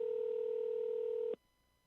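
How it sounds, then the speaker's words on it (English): A telephone line gives a steady, loud dial tone that holds evenly and then cuts off abruptly, leaving near silence. "let's get him on the phone"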